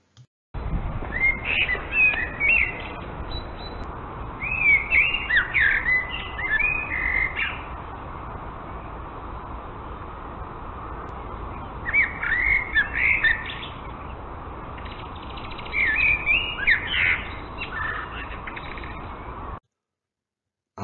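A common blackbird sings in a garden or park setting, its fluted phrases coming in several separated bursts over steady background noise, moderately loud and without any talk.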